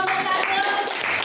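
Students clapping for a group in a classroom, a brief burst of hand claps with children's voices mixed in, close and fairly loud.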